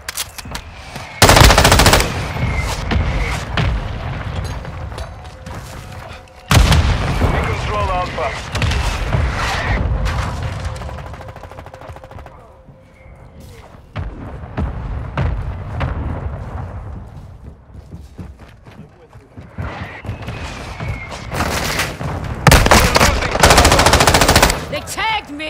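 Rapid automatic gunfire and heavy strike explosions rumble through a Call of Duty Modern Warfare match, loud and dense with bursts and blasts that swell and fade, and voices call out now and then.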